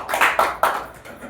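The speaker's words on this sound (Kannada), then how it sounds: "ಜೋರಾದ ಚಪ್ಪಾಳೆ" Hand clapping greets a lucky draw winner, a few separate claps spaced unevenly that fade out over about a second, fairly quiet and thin rather than full applause.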